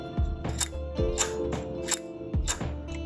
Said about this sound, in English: And now when I depress the shutter,